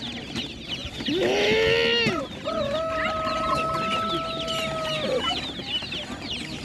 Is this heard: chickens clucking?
yes